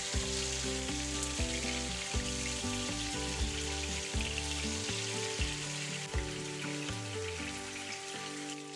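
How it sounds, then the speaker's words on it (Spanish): Fish browns in hot coconut oil in a non-stick pan over medium heat, a constant hissing sizzle running beneath louder tonal background music. "Cuando ya está bien caliente, comenzamos a agregar nuestro pescado y lo vamos a dorar de cada lado solamente 4 minutos a fuego medio"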